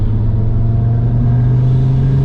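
A 2019 Audi RS3 with a full Milltek exhaust driving along, its engine a loud, steady low drone heard close and continuously, with no talk.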